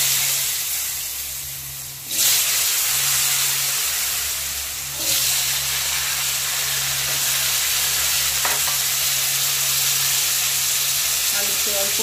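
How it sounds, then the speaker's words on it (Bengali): Potatoes frying in oil in a pan, a loud continuous close sizzle and hiss that swells sharply twice as more goes in, over a steady low hum, with no talking. "এবার আমি ওই তেলে আলুগুলো ছেড়ে দেব। এবার আলুগুলো ভেজে নেব।"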